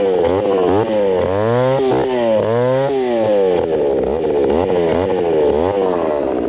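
A chainsaw cuts wood in a quiet setting, its engine revving loud and close in repeated rising and falling surges as the blade bites and eases off.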